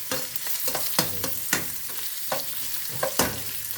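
Garlic and onion frying in oil in a pan until golden brown, a steady close sizzle punctuated by repeated scraping stirs of a spatula every half second or so, with no voices.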